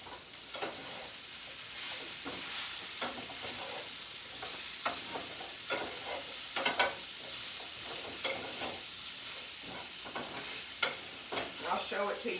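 Broccoli stirred into frying onions and peppers in a pan, with a steady sizzle under repeated scraping and tossing strokes from a utensil, close and moderately loud, no talk.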